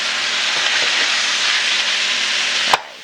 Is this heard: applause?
no